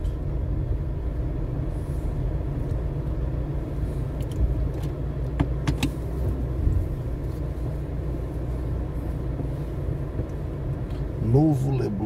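Near a condominium club in Parnamirim, a queue of cars produces a steady, low engine rumble. The sound is continuous and moderately loud, with no distinct pass-bys and a brief higher whine near the end.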